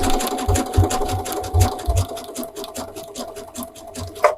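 A sewing machine stitches down a string of beads, running steadily with a fast, regular needle rhythm and low thumps throughout, close and alone.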